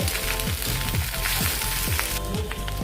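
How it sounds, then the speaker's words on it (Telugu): Okra (bhindi) frying in oil in a pan for bhindi onion curry, a steady bubbling sizzle heard up close and fairly loud, with soft rhythmic stirring scrapes underneath. "ఇప్పుడు సేమ్ ఆయిల్లోకి బెండకాయలను కూడా వేసేసుకొని ఫ్రై చేసుకోవాలి"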